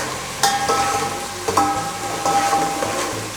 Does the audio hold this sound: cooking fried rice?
yes